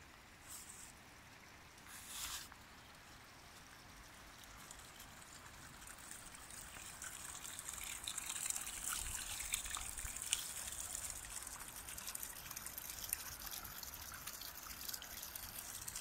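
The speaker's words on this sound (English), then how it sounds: "here's a clever use of stone to divert the water" Water trickling and flowing over a stone diversion at Fallingwater, the Frank Lloyd Wright house built on a waterfall; a steady outdoor rush that grows slightly fuller partway through, with no talk.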